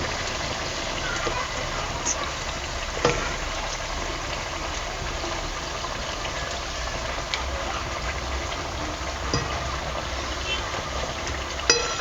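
Karanji pastries are deep-frying in hot oil, giving a dense, unbroken rain-like hiss of bubbling at steady loudness, with a couple of faint clinks.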